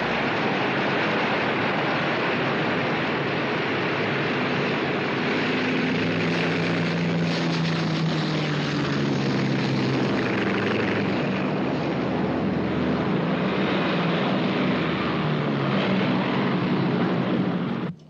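A propeller aircraft takes off from an aircraft carrier deck during a 1942 Coral Sea battle scene, its engine roaring loud and steady throughout with a rising, shifting drone as it passes.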